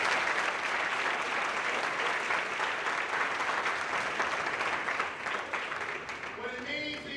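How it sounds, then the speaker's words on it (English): Audience at a Marquette University college-bound scholars event breaks into steady, sustained applause, dense and loud throughout before thinning slightly near the end as a voice starts to come through. "Come on, give me a round of applause."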